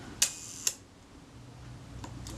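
A Retina IIc camera shutter, whose speeds run inconsistently, fires with two crisp, close mechanical clicks about half a second apart, followed by quiet.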